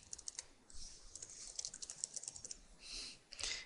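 Fast bursts of light key clicks on a computer keyboard while a name is entered, close and crisp, alone with no voices.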